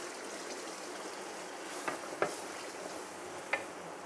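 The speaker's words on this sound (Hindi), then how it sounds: "ये चने उबाल के रखे हुए थे, उसका थोड़ा सा पानी भी है, वो भी शामिल कर दिया और चने भी डाल दिए" Boiled chickpeas and some of their cooking water go into frying masala for chana pulao and get stirred, giving a soft, steady sizzle with a few faint scraping clicks of the spoon.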